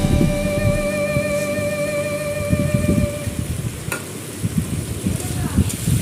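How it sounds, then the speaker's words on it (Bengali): Prawns being fried and stirred with bottle gourd in a pan, a steady close sizzle with repeated scraping stirs throughout, no talking. "চিংড়ি মাছটা অ্যাড করে আমি একটু নাড়িয়ে চেড়ে ভালো করে ভেজে নেবো।"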